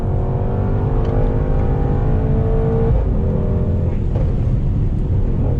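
A Mercedes-AMG GT63 S 4-door accelerating hard on a hot lap at Sepang, heard from on board as a loud continuous engine roar with rising pitch and shifting tones.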